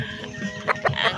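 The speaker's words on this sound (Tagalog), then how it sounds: "Ang manok, mga dagko na sa mga manok pabuyang na ini" Large chickens in a seller's pen give a few short clucks close by, rising over a steady background hum.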